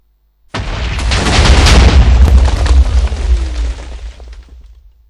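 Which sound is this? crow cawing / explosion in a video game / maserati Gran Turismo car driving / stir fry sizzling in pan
explosion in a video game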